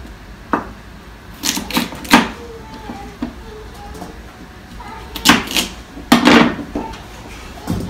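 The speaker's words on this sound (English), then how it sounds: "I don't worry about dicing them super fine, super nice" Organic carrots being diced with a knife on a cutting board for bone broth, giving a few scattered thunks and chopping taps, some in quick bursts, close by and without talk.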